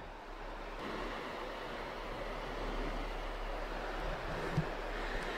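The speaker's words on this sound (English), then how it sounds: "Clearly, there's water flowing right now." Water rushing through a huge, still-active structure at a disaster site, a continuous broad roar that rises slightly and stays steady throughout, with no talking.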